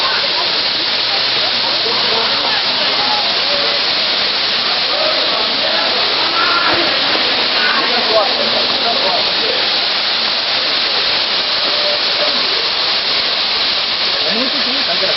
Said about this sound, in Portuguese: Chegamos à cachoeira, não do sul. Chapada dos Guimarães